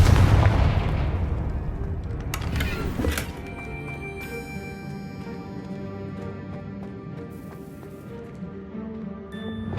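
Spell blasts from Bombarda and Confringo in Hogwarts Legacy: a heavy booming impact opens, then sharp bursts near the three-second mark, followed by a ringing magical shimmer and game ambience.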